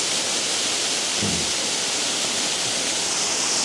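Blairskaith Linn waterfall pouring as a steady, loud, broadband rush of falling water, close by and unbroken, with no voices.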